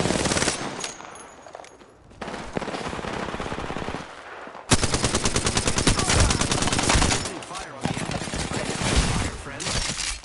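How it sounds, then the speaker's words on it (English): Dense automatic and rapid gunfire from Apex Legends players in a firefight, loud and sustained, with bursts overlapping and a sharper volley kicking in midway. "They're shooting at each other."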